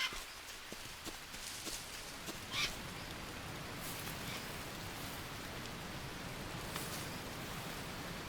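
Steady rain in the Green Hell jungle survival game, a dense, even hiss that holds through the whole stretch with a few brief knocks early on, no voices.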